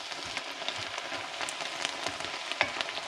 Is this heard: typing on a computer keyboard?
no